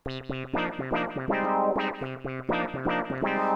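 Korg Minilogue synthesizer playing a rhythmic run of bright, buzzy notes through its delay set before the filter, with echoing repeats trailing each note, heard alone without talking.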